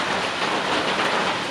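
Steady rain falls on a backpacking shelter in the evening, a loud, even hiss of drops on the roof and surroundings with no pauses and no voices.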